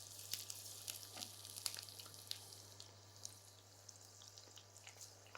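Chicken pakoda frying in hot oil gives a steady crackling sizzle with scattered sharp pops, fairly close but moderate in level, with no voices over it.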